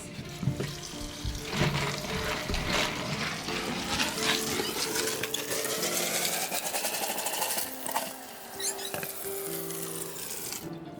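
Water running steadily from a tap, splashing and hissing as pumpkin seeds are rinsed beneath it in a strainer, with faint clatter mixed in.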